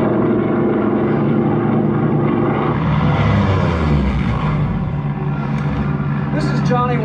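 Propeller aircraft engines drone continuously in a played war film, loud and steady with a slow swell in pitch around the middle, while a voice speaks over the engine noise.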